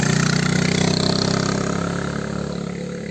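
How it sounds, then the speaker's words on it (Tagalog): A motorcycle engine idles close by in a seaside spot near a lighthouse, a steady low rumbling chug that holds even and loud for about three seconds and then eases slightly, with no talk over it. "Kasama ang kanyang motor."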